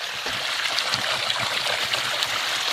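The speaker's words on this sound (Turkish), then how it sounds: "Çeşmemiz zaten 365 gün akıyor." A village fountain that runs day and night, its water pouring and splashing steadily and loudly close by, with no talk.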